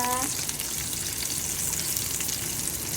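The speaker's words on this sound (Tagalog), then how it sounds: "gisahin muna natin. Gisa-gisa." Ingredients for pansit sautéing in hot oil, a steady, dense sizzle that runs loud and close throughout, with a brief tonal clink at the very start.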